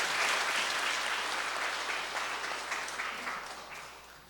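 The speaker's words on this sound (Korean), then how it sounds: "큰 박수 한번 더 보내주시면 감사하겠습니다" A congregation at a Sunday service claps together in a steady, sustained round of applause that slowly fades in strength, with no voices over it.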